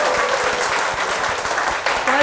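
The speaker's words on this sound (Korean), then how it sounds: "축복의 박수 부탁드립니다." Congregation applause during a church programme, dense and steady clapping filling the whole stretch at close range, with a voice briefly audible near the end.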